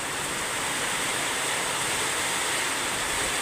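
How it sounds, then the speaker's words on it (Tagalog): A dense, steady roar of heavy rain pours without pause, a loud hissing wash of noise filling the whole clip with no voices. "Lakas ng ulan guys."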